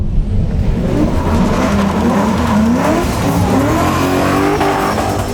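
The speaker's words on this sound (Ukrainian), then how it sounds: "звучить Опель цікаво, як V6, якому забули додати половинку" An Opel Mokka's engine revs and drops repeatedly as the car weaves through quick slalom turns, with faint tire noise underneath.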